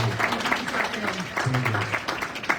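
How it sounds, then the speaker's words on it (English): Scattered clapping and cheers rise at a live charity radio marathon in Milwaukee, mixed with voices and a humming tone underneath, moderately loud and steady for nearly three seconds. "A round of applause for Dave Luczak."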